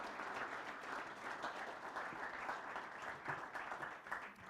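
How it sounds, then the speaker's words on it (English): Applause fills a Rotary club luncheon in Toledo, a steady clapping crowd at even loudness that keeps going for the whole stretch. "One more round of applause for Chris and Judd."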